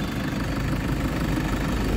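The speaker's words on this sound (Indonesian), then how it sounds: "Nah, ini mesin diesel. Bunyinya seperti ini dia." A 2014 Toyota Fortuner TRD VNT turbo diesel idles up close, a loud, steady low clatter with a faint knocking rhythm running evenly throughout.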